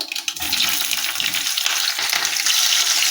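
Prepared chillies dropped into hot oil with mustard seeds, cumin and asafoetida, bursting into a loud, close sizzling fry that stays intense and crackling throughout.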